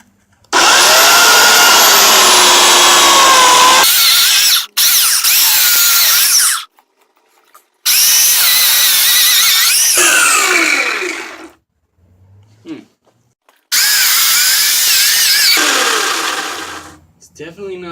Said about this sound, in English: Electric chainsaw.